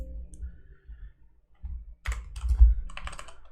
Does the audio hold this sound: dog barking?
no